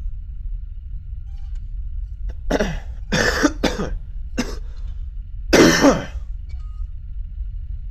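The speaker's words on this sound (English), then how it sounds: "I'm still coughing." A person coughs in several short, harsh bursts spread across a quiet stretch, then gives one louder cough near the end, with silence in between and no talking.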